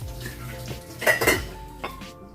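Cooking pots and dishes clatter and clink as they are handled at home, with a few sharp metallic knocks and a ringing scrape standing out from a soft background.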